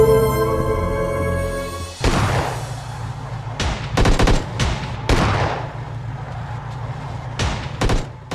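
Gunfire from a mobile video game, loud bursts of rapid shots and single cracks that come in irregular clusters after a musical opening.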